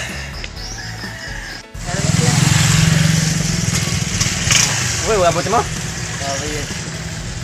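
A motorcycle engine rises sharply and rumbles past on a street, loud and close, then fades a little as a voice comes in over it.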